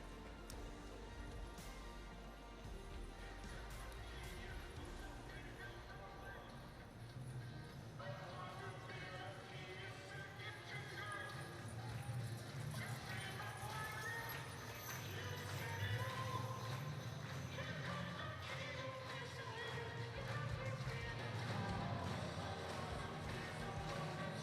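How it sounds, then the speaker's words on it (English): Hooves of the Budweiser Clydesdale hitch clip-clop in a steady rhythm across an arena floor at an evening show, under a commentator's voice and crowd murmur. "the Budweiser Clydesdales in all their glory"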